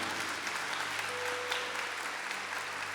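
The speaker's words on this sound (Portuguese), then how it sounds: "Vamos aplaudir a Deus pela Canção Nova?" Applause from a congregation at a Catholic Canção Nova gathering, a dense, even wash of many hands clapping that holds steady throughout, with a faint sustained tone beneath.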